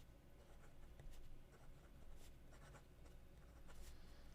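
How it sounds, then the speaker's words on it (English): An A9 fountain pen scratches across toothy paper, a faint close rasp of continuous strokes with small swells and pauses, heard alone. "Let's see how A9 writes on this paper."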